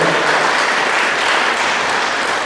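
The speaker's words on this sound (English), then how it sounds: "Let's have a round of applause for Ian." An awards-ceremony audience at the ICON Awards 2014 breaks into steady, dense applause, loud and close, filling the whole stretch with even clapping and no talk.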